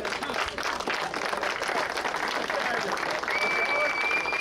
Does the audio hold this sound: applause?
yes